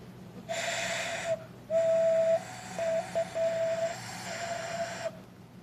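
A small clay pinch pot whistle sounds in steady piping toots, some long and some clipped, played close against faint background hiss.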